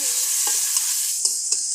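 Chopped onion frying in white oil in a wok, a steady bright sizzle close up with a few soft stirring taps, continuous and without voices.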